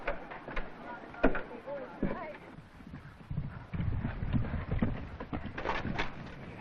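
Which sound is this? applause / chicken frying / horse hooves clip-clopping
horse hooves clip-clopping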